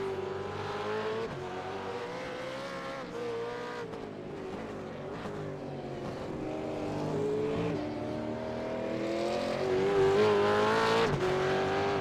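V8 race cars in a racing game at Oran Park entering the pits, a sustained engine drone with shifting revs and rising pitch, steady and fairly close, without talk.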